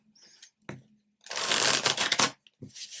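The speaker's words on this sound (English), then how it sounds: "So I'm using the Light Seers Tarot by Chris Ann." A deck of Light Seers Tarot cards being handled and shuffled. Short taps and slides lead into a long, loud riffling burst, then a brief pause and a final shuffle, all close up with no talking.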